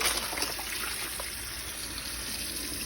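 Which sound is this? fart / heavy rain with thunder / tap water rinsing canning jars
tap water rinsing canning jars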